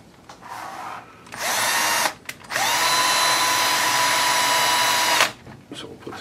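A power drill drives a screw in close, with a short whirring burst, a brief pause, then a longer steady whine before it stops.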